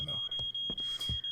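A continuous high electronic alarm tone rings in the video game Life is Strange: Before the Storm, held steady throughout at moderate loudness beneath short bursts of speech.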